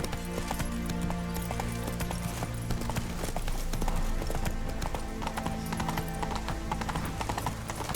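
Horse hooves clip-clop steadily at a riding pace in The Witcher 3, a close, continuous rhythm of hoof strikes laid over a constant bed of game music with no talking.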